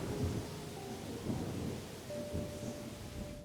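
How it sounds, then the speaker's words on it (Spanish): Severe overnight rain in Utiel, Spain, during an October storm, a steady dense hiss of downpour with low rumbling thunder beneath, continuous and loud throughout without speech. "en Utiel, la lluvia cae de forma severa"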